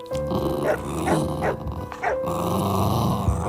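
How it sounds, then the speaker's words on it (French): A dog growling low and barking near a house fence, several sharp barks in quick succession followed by a sustained growl. "Léa se met à grogner et à aboyer."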